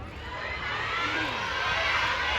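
A large crowd of fans screams and shrieks continuously at a store opening in Siam, Bangkok, a dense wall of high-pitched cheering that swells slightly toward the end.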